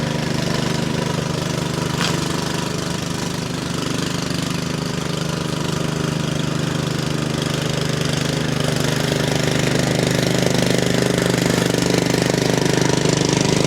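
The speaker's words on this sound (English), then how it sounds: "just standing here right now playing with this mower" A radio-controlled mower's engine runs close by, a loud, continuous, rumbling mechanical drone with steady low knocking and no pauses throughout.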